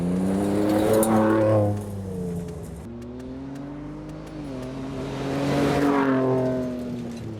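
A Ford Ranger Raptor with a dual variable valve exhaust revs hard and loud twice, the engine note rising and falling in strong sweeps with a burbling idle between the pulls and no talk.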